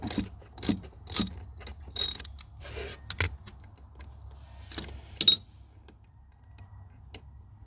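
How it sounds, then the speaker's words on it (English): A ratchet undoing a 13mm nut during a garage inverter installation, giving bursts of quick clicking ratchet strokes separated by pauses, close and fairly quiet, with no talking. "The actual nut here is the 13mm. So I'm just going to undo that quickly."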